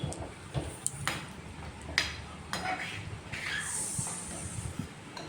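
A vegetarian tadka is stirred in a pan alongside paratha cooking: irregular scraping taps of a utensil against metal over a steady sizzling hiss, close and moderately loud.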